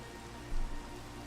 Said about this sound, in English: Nope, it's raining.